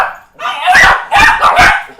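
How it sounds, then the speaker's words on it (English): Dogs bark close and loud in three quick bursts, with a yipping, slightly whiny edge, in a room where someone is talking. "dogs are going crazy"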